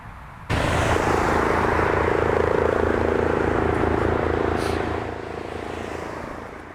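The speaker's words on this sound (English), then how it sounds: "This was a flyover by a Flight for Life helicopter." A Flight for Life medical helicopter roars overhead during a police funeral in Milwaukee, loud and steady with a deep rhythmic engine drone, easing slightly as it moves away.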